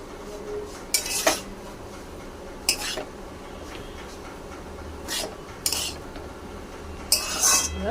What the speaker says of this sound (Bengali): ভালো করে সুজি নাড়তে থাকবো